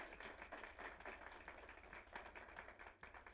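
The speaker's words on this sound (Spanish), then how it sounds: "De la fuerte ofrenda de palmas al Señor" A church congregation gives a strong offering of applause to God, a dense, sustained wash of clapping from many hands, fairly distant and even in level throughout.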